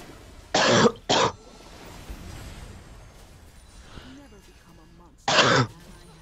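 Coughing comes close and loud in sharp bursts, two quick coughs in a row, then a pause and one more after a few seconds. The coughs come during a League of Legends game session, with a quiet background between them.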